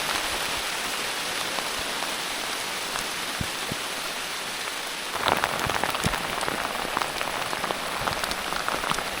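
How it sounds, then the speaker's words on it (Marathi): Heavy monsoon rain in the Konkan countryside, falling in big fat drops, pours steadily and close by. It grows louder and denser about halfway through, with no voices. "जाडा जाडा थेंब पडतोय."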